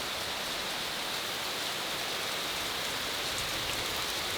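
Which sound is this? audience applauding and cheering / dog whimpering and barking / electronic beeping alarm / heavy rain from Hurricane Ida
heavy rain from Hurricane Ida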